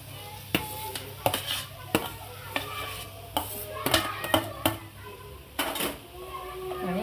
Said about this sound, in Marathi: अशी छान परतून घ्यायची कोथिंबीरीला पण पाणी असतं ना ते सुकेपर्यंत परतून घ्यायची